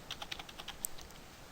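A user key is typed on a computer keyboard, a quick run of soft, close key clicks in an uneven rhythm over a quiet background with no talk.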